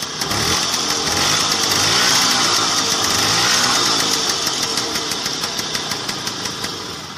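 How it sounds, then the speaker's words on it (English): A Lambretta 150 scooter engine starting and running, a loud, buzzy two-stroke drone with a rapid regular pulse that swells, then eases off while still running. "Friends, I am going to show you the starting of Lambretta 150."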